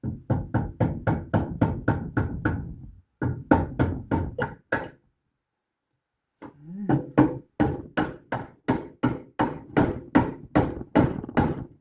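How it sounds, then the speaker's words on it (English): Rapid metallic hammer blows on a bolt of a Mustang II front suspension ring out in quick rhythmic bursts, pausing briefly twice before resuming a steady striking pattern. "A small little hammer here, something a little heavier."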